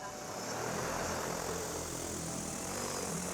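A DJI Agras T50 agricultural spraying drone taking off, its rotors giving a steady, loud, broadband whirring roar close by for the whole stretch, with no talking.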